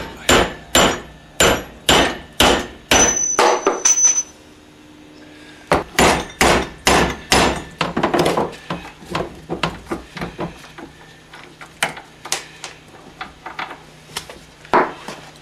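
Hammer blows tapping a bolt out of a front-end part from a Mercedes 300D, sharp metallic strikes in quick rhythmic bursts with a short pause, then lighter, irregular taps, close and loud.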